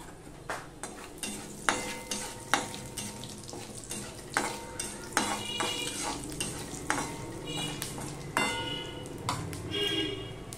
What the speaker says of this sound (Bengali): দিয়ে দিলাম তেল। দিয়ে দিলাম 5 ফোড়ন।